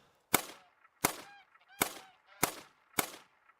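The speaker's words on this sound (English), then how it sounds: "there's one more gray Canada goose that I could try for, at least" Gray Canada geese honk in a West Virginia hunting video game, five loud, sharp honks spaced roughly evenly apart, each with a fainter trailing call between them.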